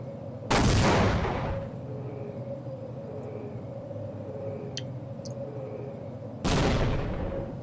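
Two loud, booming grenade explosions in Half-Life, spaced several seconds apart. Each blast decays into a low rumble over a steady mechanical background hum.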